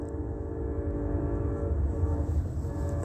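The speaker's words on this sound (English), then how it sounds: "the state's pattern of conduct is literally playing the tape of the sound of the noise of a train." A train rumbles steadily nearby with a sustained horn-like tonal drone over low rolling noise, loud and continuous without any speech.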